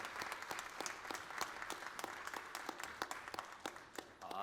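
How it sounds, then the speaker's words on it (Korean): A congregation applauds at a church New Year prayer meeting, with steady, fairly rhythmic group clapping that sounds somewhat distant and soft. "이 박수 소리가 오늘 좀 다르네요"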